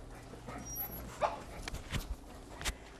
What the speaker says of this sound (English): Beagles can tend to be pretty talkative.